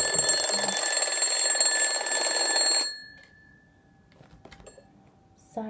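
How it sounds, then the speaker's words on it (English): A loud electronic alarm clock rings continuously for about three seconds, then stops, leaving near silence with faint rustling. "My alarm just went at 6"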